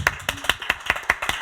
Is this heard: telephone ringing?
no